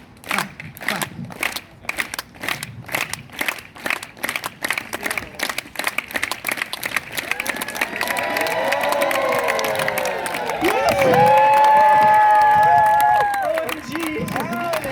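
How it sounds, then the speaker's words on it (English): A group on a Pacific Crest Trail thru-hike claps slowly and steadily in unison, the claps quickening into a fast, continuous round of clapping with cheering and excited voices near the end. "Everyone, a slow, rhythmic clap, clap, clap, clap, clap, clap, clap, clap."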